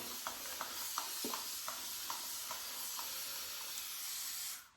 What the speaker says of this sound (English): I'm just gonna give myself a spray